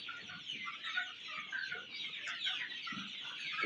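A flock of desi hens and roosters on a small poultry farm cluck and chatter continuously at close range, overlapping calls forming a busy, steady farmyard din.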